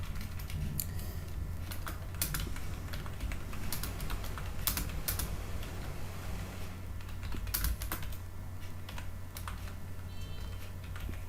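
Steady typing of a sentence on a computer keyboard in MS Word, continuous soft key clicks over a constant low hum for the whole stretch, with no voices.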